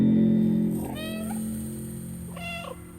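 A cat in the video game Stray meows twice, with clear, drawn-out calls about a second and a half apart over a steady low background hum.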